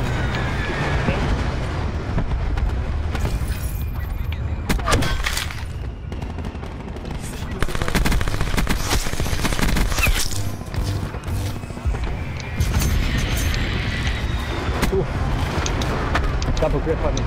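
Dense, continuous Call of Duty Black Ops 4 gunfire with rapid automatic bursts and booming blasts, loud and constant throughout, with a voice talking over the action.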